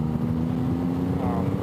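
A cruiser motorcycle engine running under throttle in fourth gear on a test ride, a loud, steady droning hum with constant wind rush and no clear pauses.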